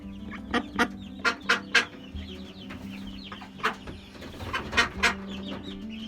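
Several broody hens cluck angrily in sharp, repeated bursts, close up, with a low steady background hum and no talking.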